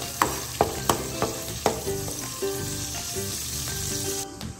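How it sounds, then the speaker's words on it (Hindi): Ginger, garlic and green chili paste frying in hot oil, a steady close sizzle punctuated by several sharp clanks of a spoon against the pan early on, then settling into even crackling with no voices. "जी ऑयल गर्म हो गया इसमें जाएगा अदरक लहसुन और सब्ज़ मिर्च का पेस्ट इसको अच्छे से भून लेंगे"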